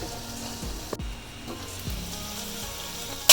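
Squid rings for a Malabar-style Vadakkan squid fry sizzle in a pan over high flame, a steady crackling hiss broken by a few louder spatters and stirring clunks, with no talk.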